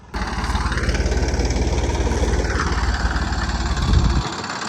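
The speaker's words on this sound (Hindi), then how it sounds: "मैसी आ गया है, प्लाऊ स्टार्ट करते हैं।" A Massey tractor engine runs steadily and loudly throughout, a continuous low diesel drone with a brief surge near the end as it works with a plough in a field being prepared for corn.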